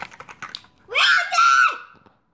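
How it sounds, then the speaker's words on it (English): A giant screaming in a movie, a loud, sustained high-pitched shriek in two long bursts, preceded by a few short taps and clicks. "I think there's a giant that screamed."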